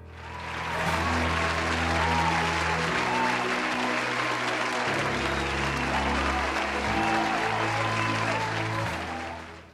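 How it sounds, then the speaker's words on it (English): Steady, dense applause from an awards ceremony audience, sustained for nearly ten seconds at even loudness with a low background hum beneath. "Let's have one more round of applause for these leaders."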